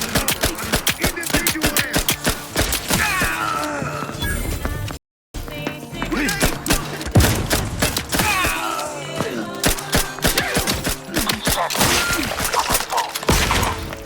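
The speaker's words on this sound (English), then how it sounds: "An explosion!" An explosion in the video game The Outer Worlds 2 hits amid chaotic combat, with dense crashing, thudding debris and scattered impacts, loud and sustained, after a brief dropout.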